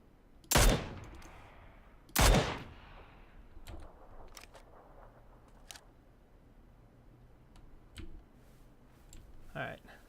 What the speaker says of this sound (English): Someone shot at me from this way as well